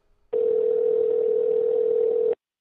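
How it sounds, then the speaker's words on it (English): A single long steady ring tone sounds on an outgoing phone call, a pure sustained tone lasting about two seconds and then cutting off cleanly, clear and alone. "And phone's ringing."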